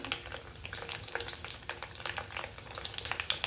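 White sesame seeds hit hot tempering oil that already holds crackled cumin and mustard seeds, giving a soft, continuous sizzle with quick irregular pops and spits. It is fairly quiet and close up, with no voices.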